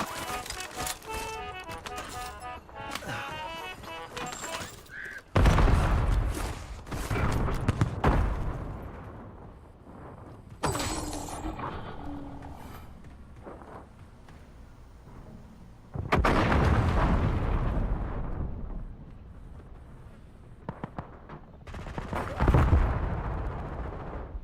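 Heavy video-game battle: artillery blasts and bursts of gunfire crash in loud, uneven waves, with quieter gaps between the barrages and a player's voice talking through parts of it.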